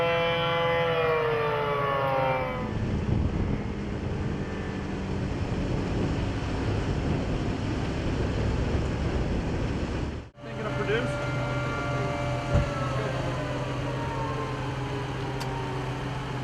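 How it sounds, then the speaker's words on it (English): A tornado warning siren in La Crosse, Kansas wails steadily across the whole stretch, loud and sustained beneath wind noise, with a brief voice speaking near the end. "Siren's still going in La Crosse."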